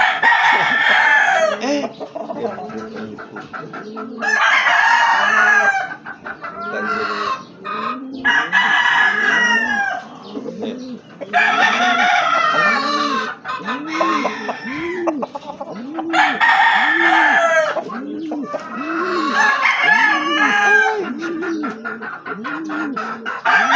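Boston Roundhead roosters crowing again and again, loud and close, with clucking and other fowl calls filling the gaps between the crows, with no talking.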